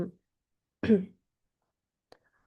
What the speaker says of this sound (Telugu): కాఫ్ ఎక్కువ ఉంది